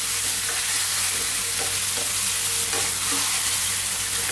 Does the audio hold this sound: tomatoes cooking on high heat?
yes